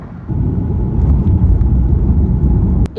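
A passenger airplane landing at Hefei airport, heard from inside the cabin as a loud, steady low rumble of engine and wheel noise that ends abruptly near the end.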